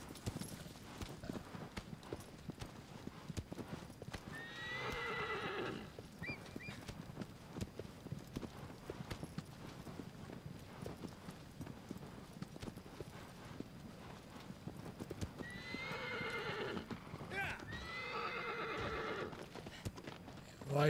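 Horse in the video game Shadow of the Colossus, with faint clip-clop hooves throughout and a few clear whinnying neighs standing out, quiet overall with no talk.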